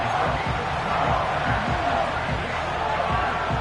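Dense roar of a football stadium crowd during a late-game third down, a steady wash of cheering and shouting throughout with a commentator's voice over it.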